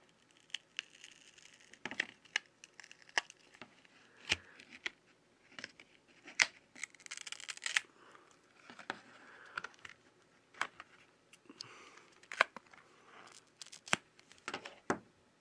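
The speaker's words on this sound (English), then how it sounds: "we use a thin plastic card to carefully cut the adhesive that holds it in place" A thin plastic card slices through the adhesive holding the back cover of a Samsung A40 phone: close, faint crinkly scraping with sharp ticks and tearing bursts at an irregular pace.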